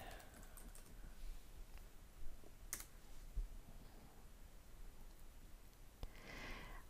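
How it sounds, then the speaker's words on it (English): Soft, quick keystrokes on a computer keyboard as search keywords are entered, a quiet run of clicks in an otherwise calm room. "Here you can type in keywords to search."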